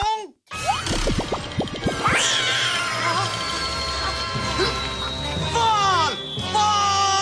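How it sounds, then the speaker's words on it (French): Cartoon kitten meowing in a French-dubbed animated series, several high plaintive mews over a busy soundtrack with cartoon bonks and thwacks, a brief silence near the start, then a long sustained whistle-like tone running under later cries. "Prêt à sauver cet adorable petit chaton?"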